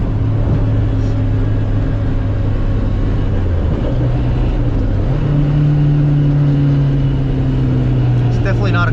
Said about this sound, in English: It's definitely not a quiet car.